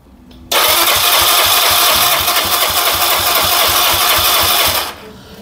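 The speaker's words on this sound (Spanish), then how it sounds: "Vamos a pasar la llave y le vamos a dar arranque." An AKT NKD 125 motorcycle with an ignition problem fires up on the starter and runs loudly for several seconds at close range before cutting off abruptly.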